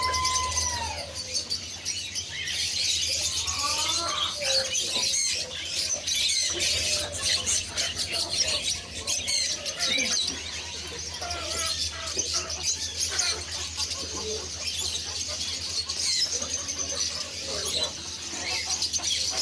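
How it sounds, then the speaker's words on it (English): Many caged birds chirp and tweet at an indoor bird market in Doha, Qatar, with a busy overlapping chorus of calls close by and a constant low background hum while people walk through. "Bird market that we're walking through to."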